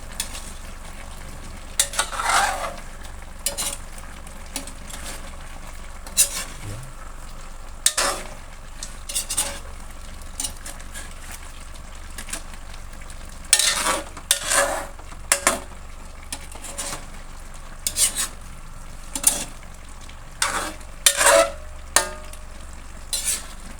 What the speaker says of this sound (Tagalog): Haluin natin mga kaibigan.